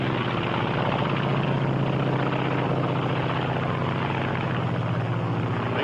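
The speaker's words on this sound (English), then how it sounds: "This is the Japanese Zero." Japanese Zero fighter from the Second World War, a steady loud propeller-engine drone holding throughout with no break or talk.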